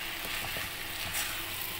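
Spaghetti tossed into a pan of frying chicken and vegetables, a steady close sizzle with a few soft scraping stirs, no voices.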